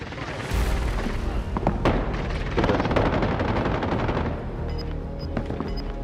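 Rapid gunfire and machine-gun bursts in the Call of Duty Rebirth Island battle royale, loud and dense throughout with booming shots and a few high electronic beeps near the end, and no talk over it.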